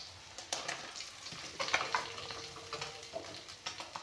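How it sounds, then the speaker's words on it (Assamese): Fish frying in refined oil in a pan, a steady crackling sizzle with sharper pops and bursts of spatter rising and falling close by, no talking. "এয়া চাওক মাছখিনি ধুনীয়াকৈ ভাজি ল'লোঁ।"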